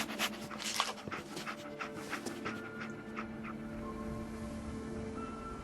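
Dogmeat, the dog companion in Fallout 4, panting in quick, steady breaths close by, loudest at the start before settling into a softer continuous pant over a low ambient hum.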